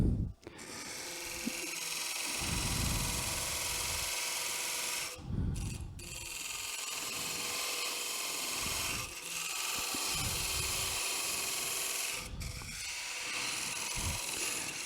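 Hand tool cutting into very hard wood for a lidded box tenon, a steady rasping, scraping drone with rhythmic strokes and brief pauses, close and moderately loud, no talking.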